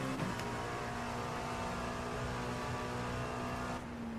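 Race car engine in the iRacing simulator, an LMP2 prototype at Sebring during a 12 hour race, droning steadily and loudly with a constant high whine throughout, easing slightly near the end, no voices.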